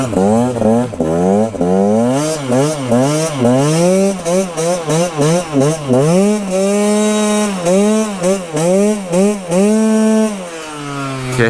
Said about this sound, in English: that was my first burnout ever